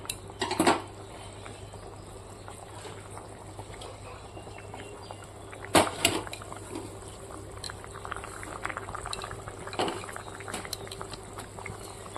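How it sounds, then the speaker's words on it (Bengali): Fried fish pieces dropping one by one into a simmering potato-stem curry in a home kitchen, with steady bubbling, a few sharp pot clinks and splashes at separate moments, and faint background hum throughout. "দিয়ে দিলাম ভেজে রাখা মাছগুলো এক এক করে"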